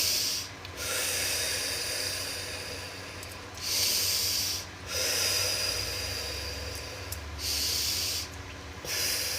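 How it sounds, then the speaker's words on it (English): Slow cleansing breaths, drawn in through the nose and released through the mouth, come as soft, close airy rushes, each a few seconds long and separated by brief pauses, heard alone in a quiet room. "Inhale through the nose, exhale through the mouth."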